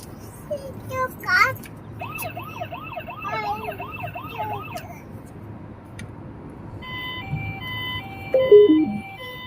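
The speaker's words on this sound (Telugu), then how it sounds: "అంబులెన్స్." A toy-like electronic ambulance siren wails in quick rising and falling sweeps for a few seconds, with chiming electronic tones and a voice nearby.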